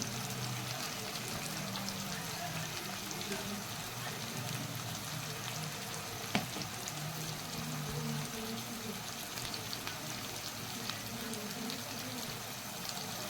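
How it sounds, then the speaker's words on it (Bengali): Ground cumin hitting hot oil in a pan of frying radish and potato for a Bengali fish curry, a steady, dense sizzle that runs evenly throughout, close and continuous with no talking. "আমি জিরের গুঁড়ো দিচ্ছি"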